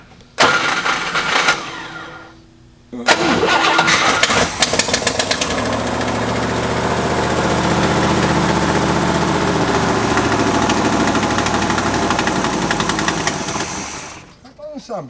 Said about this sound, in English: Sound bad. It's got a bad exhaust leak.